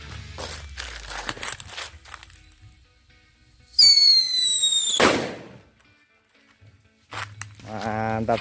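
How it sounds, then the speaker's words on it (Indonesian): A whistling king thunder firecracker wrapped in paper is set off. A piercing rising whistle screams for over a second and ends in a sharp bang, with shuffling noise before it and another whistling burst starting near the end. "selanjutnya kita coba eksperimen dengan whistling king thunder"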